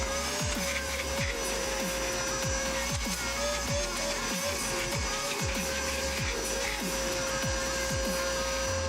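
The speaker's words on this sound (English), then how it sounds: "Do you like the sounds of the vacuuming or not?" A vacuum cleaner runs steadily inside a Dodge Charger during a coffee-spill cleanup, holding a sustained motor whine, with repeated sucking and clattering bursts as the nozzle works over the interior, loud and close throughout.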